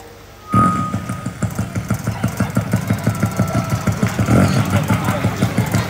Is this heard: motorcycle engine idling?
yes